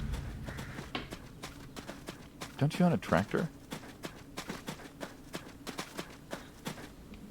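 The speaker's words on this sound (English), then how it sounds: "Nice. The horse." Horse hooves clip-clop steadily in the farm game ADIOS, a regular trotting rhythm of moderate loudness with a voice speaking over it midway.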